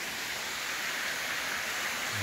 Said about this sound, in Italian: Guardate quanto bella la cascata